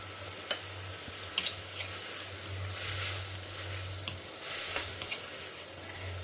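Tomatoes sautéing with rock salt in a pan for Karnataka-style thili saaru rasam give a faint, even sizzle, punctuated by light ticks and scrapes of a stirring spoon, with no speech.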